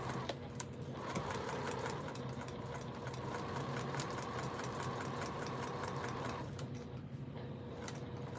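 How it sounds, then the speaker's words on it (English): A sewing machine stitches foundation paper pieced quilt block sections together for an African King block. It runs steadily with a fast, even needle chatter for most of the clip, starting and stopping near the ends. "I'm about to sew my C1 and C2 together"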